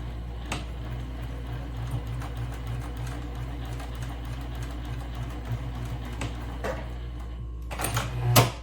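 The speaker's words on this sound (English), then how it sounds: "make sure that I have the foot presser right against the line of the fabric here, so everything will be nice and even when I'm stitching across." A sewing machine top-stitches across fabric while making a silverware display, its steady mechanical whirr running close and continuous, with a few louder clicks and a brief surge near the end.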